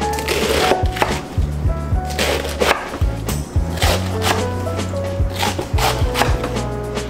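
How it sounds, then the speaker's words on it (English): A knife chops through a head of cabbage on a cutting board, the blade landing again and again in a steady run of thick, woody thuds and crunches, close and loud, with no talking. "I'm going to cut this in half lengthwise. And just cut it directly down the middle"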